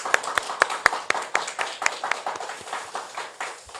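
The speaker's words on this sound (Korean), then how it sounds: "오늘 굉장히 피곤하실 건데 오셔서 말씀 전해주신 우리 목사님께 또 감사의 박수 드리겠습니다." A church congregation claps in a quick, steady rhythm, a run of crisp, fairly close claps that gradually softens toward the end.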